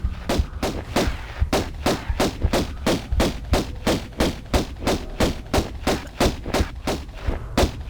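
Pistol shots from the video game Tomb Raider 1: Unfinished Business ring out in a steady rapid stream, about three per second, sharp and loud, with no talking.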